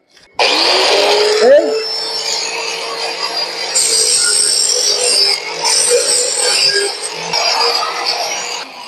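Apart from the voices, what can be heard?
angle grinder with cutting disc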